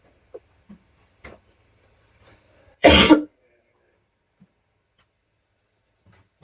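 A single sharp cough sounds close by in a quiet indoor room, with a few faint clicks and small noises before and after.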